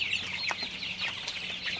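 Sonali chickens cluck steadily inside an open-sided, airy poultry house, a soft continuous flock chatter with a low background hum and no voices.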